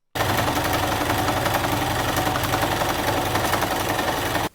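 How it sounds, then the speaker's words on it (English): A sewing machine fitted with a walking foot stitches through velvet for a Nadja cosplay costume, running in a steady, fast mechanical chatter. It stays close and continuous for about four seconds without pause. "Definite trick to sewing with velvet is definitely this walking foot."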